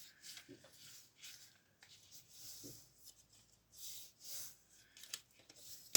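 A hand scraper tool rubs and presses across paper while assembling a 20-photo album from 30x30 pages, giving soft, intermittent scraping strokes at close range, fairly quiet, with brief pauses between passes.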